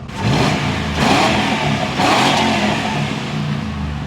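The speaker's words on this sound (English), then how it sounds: "I'll give it a couple of revs so you guys can take a look." A manual-transmission Ford Crown Victoria engine revs up close, with repeated throttle blips that surge and fall back over a steady running rumble, and no voices.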